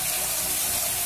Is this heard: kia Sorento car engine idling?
no